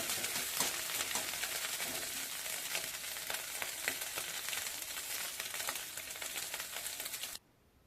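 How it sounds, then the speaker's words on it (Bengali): Fish sizzles in hot oil for a Bengali bean, eggplant, potato and shrimp stew, a soft, even crackling hiss that runs steadily, then cuts off abruptly just before the end. "মাছটা আমি লাল লাল করে ভেজে নেব।"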